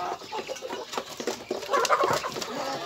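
Domestic chickens cluck softly and repeatedly at their feed, a close, busy chatter of short calls that grows a little louder near the end.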